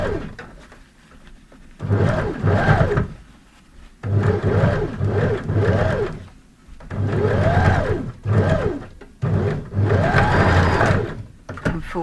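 A sewing machine stitches a fabric face mask in several loud, close bursts, running forwards and then back with short pauses between each run, its motor whirring steadily during every burst.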